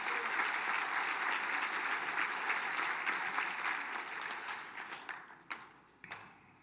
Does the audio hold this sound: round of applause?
yes